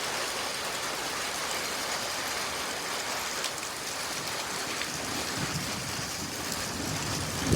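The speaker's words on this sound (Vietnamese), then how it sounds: "Mưa to lắm đây nè. Mưa cỡ đây mà nước chảy vi vu luôn nè." Heavy rain pours down in Blik ksor village with water running off, a dense, even hiss of falling drops and flowing water that stays steady and close throughout with no voices.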